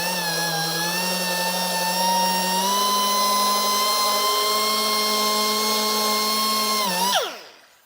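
A power sander fitted with 3000 grit paper works the soft, thin clear coat on a car, giving a steady high whine that drops and winds down near the end.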